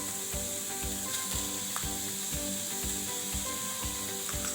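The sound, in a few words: stirring gulkand into modak mixture in a pan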